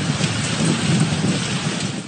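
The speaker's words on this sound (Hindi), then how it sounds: "जुड़वा शहरों में तेज आंधी और तूफान के साथ मूसलाधार बारिश" Heavy downpour lashes Rawalpindi and Islamabad during a severe thunderstorm, a dense, loud, continuous hiss of rain with low rumbling thunder underneath.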